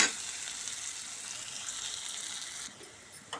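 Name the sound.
ginger and turmeric frying in oil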